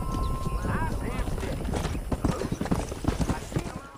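Steady clip-clop of horse hooves while riding behind a cattle herd in Red Dead Redemption, with a faint whinny and game dialogue mixed underneath.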